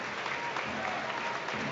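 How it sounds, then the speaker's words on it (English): Home supporters at a Motherwell football ground in a cup quarter-final applaud a player, a steady wash of crowd clapping heard at a distance throughout. "O'Donnell continues to make his way around the pitch and is applauded by the home fans"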